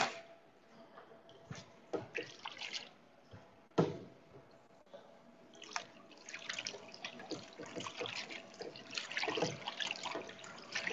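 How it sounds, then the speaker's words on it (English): Soba noodles are rinsed under a running tap in a kitchen sink, with water splashing and trickling steadily and occasional sharper clatters and splashes as the noodles are handled, moderately close. "So let's go over to the sink to wash the noodles."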